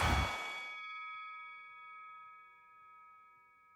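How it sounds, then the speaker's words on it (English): Boxing round bell in the video game Undisputed: a single bright metallic strike that rings out with a long, slowly decaying tone, heard alone and fairly close. "there's the bell for round 7"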